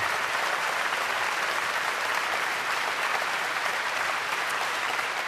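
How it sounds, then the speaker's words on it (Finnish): Sustained, dense applause from a studio audience at a Finnish stand-up comedy show, cheering a comedian, loud and steady throughout with no talk over it. "Vielä kerran jättimäiset aplodit,"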